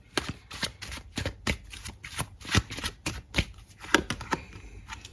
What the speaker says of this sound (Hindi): फिर भी मैं कार्ड निकालती हूँ।